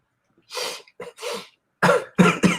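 A series of harsh, dry coughs close to the microphone, two spaced bursts early, then a quick cluster of three heavier coughs near the end.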